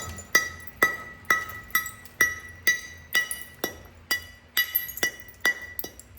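Flintknapping a large tab of Flint River chert with a 2.5 inch bopper: a rapid series of about a dozen sharp, ringing stone clinks, close and clear, each strike evenly spaced.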